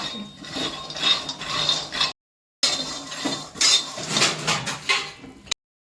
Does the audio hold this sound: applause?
no